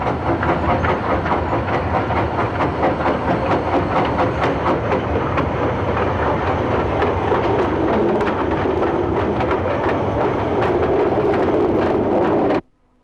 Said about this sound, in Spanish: se usa hoy para maniobrar vagones en las vías muertas de la factoría que no disponen de catenaria